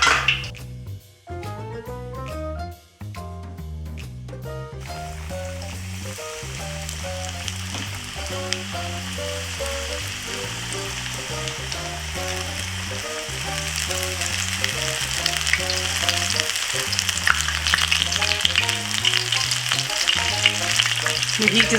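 Shrimp deep-frying in hot oil for bang bang shrimp, a loud bubbling sizzle that swells after a few sharp clatters at the start and keeps building, with a low rhythmic hum pulsing underneath.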